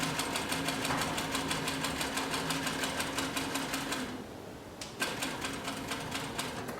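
Sewing machine stitching through two layers of 3 to 4 ounce leather, a fast regular mechanical clatter that pauses briefly and then resumes, heard close with no talking.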